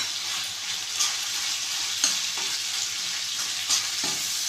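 Masala for Madurai-style egg mass fries in a pan with ground pepper and cumin, a constant bright sizzle broken by a few clear scraping stirs of a spatula.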